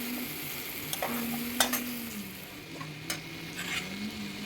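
Ginger-garlic paste masala with turmeric fries in a pan, a steady close sizzle broken by several sharp spatula scrapes and taps as it is stirred, with a low hum underneath.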